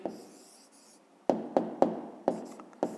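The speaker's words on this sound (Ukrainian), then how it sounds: "Пишемо внизу відповідь." Pen or pencil writing an answer by hand in a school maths exercise book, a soft rasping scratch with a string of short strokes, close and quiet with no talk.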